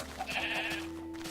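A sheep bleating in the Minecraft video game, a short nasal bleat over a steady electronic background hum.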